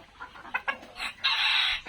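Desi chickens on a farm give a few short, close clucks, then a louder, sustained crowing-like call fills the second half, loud and alone with no talk.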